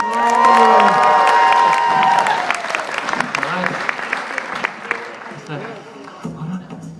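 An audience applauds and cheers with a few whoops for a woman during a mission gathering in Toronto, a loud burst that fades into scattered clapping while someone talks over it.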